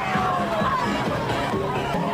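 A festival crowd in a city street fills the air with steady chatter, laughter and cheering during a water-gun celebration, a dense, continuous hubbub with no single voice standing out.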